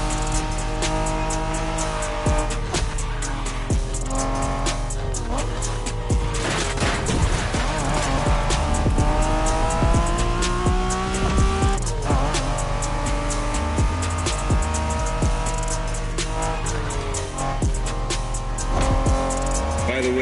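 Racing car engine roaring with tire squeal in the video game The Crew Motorfest, a loud, continuous engine drone with shifting pitch, layered over game music and sound effects throughout.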